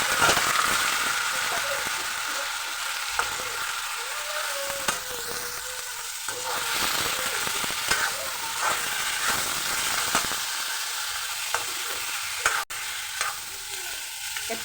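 Chicken meat frying uncovered in a pan with ginger, garlic and chillies, a continuous close sizzle with occasional stirring scrapes and clinks.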